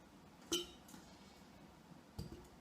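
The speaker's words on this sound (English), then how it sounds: "we're just going to go ahead and pop our onion in our bottles" Onion pieces dropped into sterilized glass bottles, giving a sharp clink followed by a softer tap, then a pair of quieter knocks a moment later, faint and close in an otherwise quiet kitchen.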